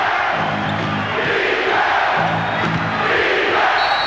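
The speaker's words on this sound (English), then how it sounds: "Crowd chanting defense, whistle, and a foul." Basketball arena crowd at a 1995 NBA playoff game between the Sonics and Lakers, a dense roar with rhythmic chanting of defense rising and falling in repeated pulses, loud and continuous.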